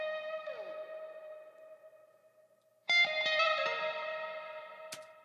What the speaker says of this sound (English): we have our little lead guitar fill